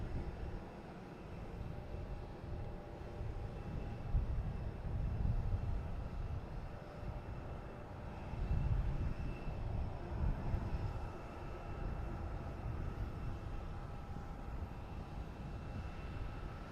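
An American Airlines airliner comes in to land at Boston Logan, a broad, steady jet roar that swells and fades over several seconds, heard from a distance with no voices.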